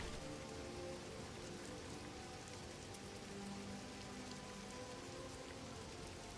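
Steady rain falls in the Skyrim video game, a dense, even hiss of drops on the ground that holds at one level throughout, with a faint low tone rising briefly near the middle and no voices.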